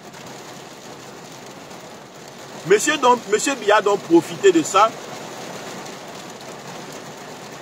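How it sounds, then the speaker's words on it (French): Heavy rain pours down in a steady, dense hiss throughout, while someone speaks loudly and emphatically over it in the middle stretch. "Parce qu'il pleut sérieusement."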